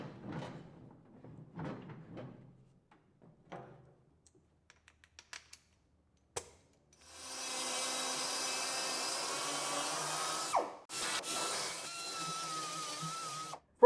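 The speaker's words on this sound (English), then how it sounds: "now I can mark it, and then we can die grind it out a little bit" A die grinder grinds out a bolt hole on a Cat D3 LGP dozer. Quiet handling clicks give way to two sustained, close, high whining grinding runs of a few seconds each, with a brief pause between them.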